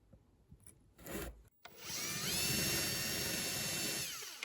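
A power drill bores small, equally spaced shallow holes, roughly a quarter inch deep, in wood for a magnetic dishwasher sign: a short burst, a brief stop, then one steady, close, whining run that winds down at the end.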